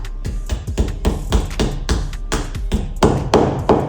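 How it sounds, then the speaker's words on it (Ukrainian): A hammer drives a plastic wall plug into a wall with about ten sharp, close knocks in a steady rhythm, each one a solid tap with a short thud. "Так, вставляємо, забиваємо."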